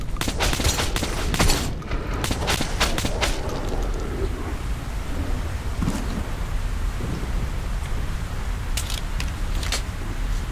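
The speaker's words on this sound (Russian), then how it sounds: "похоже, пошел дождь, ураган." Heavy rain and a raging storm in the video game Metro 2033 roar steadily throughout, with sharp crackling bursts and rumbling gusts standing out over the first few seconds before settling into a dense, continuous downpour.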